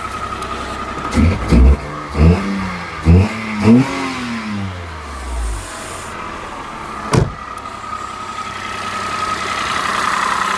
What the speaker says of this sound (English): Still rough, but it's a 3-cylinder, so it will be.